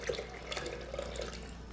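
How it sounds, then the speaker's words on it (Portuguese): A cup of water pours into a blender jar holding eggs and oil for a gluten-free, lactose-free chicken pie batter, a steady close splashing and gurgling stream lasting a couple of seconds. "Vou colocar 1 xícara de água."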